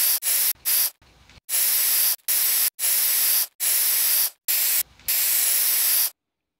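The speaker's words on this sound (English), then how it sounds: "I'll just spray this little bottom bit here." Dulux Duramax spray paint hisses from a can onto a 1956 Loewe Opta Meteor 1781W radio in a series of loud, close bursts of varying length separated by short pauses.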